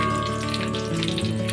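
Whole garam masala and white cumin seeds frying in oil for a soybean curry, a steady close sizzle with a watery, even texture that holds at a constant level throughout with no voices.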